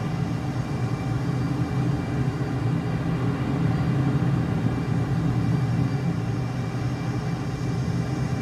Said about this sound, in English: We've been in Afterburner for like a long time